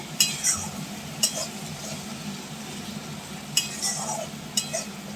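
Masala spice paste with coriander leaves stir-fried in a pan for a pomfret fish curry, a faint steady sizzle broken by a few sharp scrapes and clinks of a spoon against the pan.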